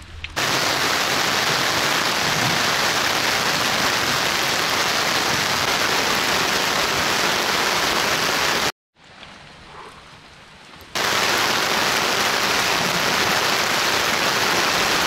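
Heavy rain falling in the Amazon rainforest, a dense, loud, continuous hiss of downpour that cuts out briefly to a quieter patch before resuming at full strength.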